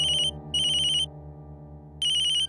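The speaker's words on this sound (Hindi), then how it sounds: "रमेश्वर का फोन है" A telephone ringtone sounds in three steady electronic bursts, the last starting after a short pause, loud and close over a low background hum with no talking.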